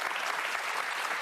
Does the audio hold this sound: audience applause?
yes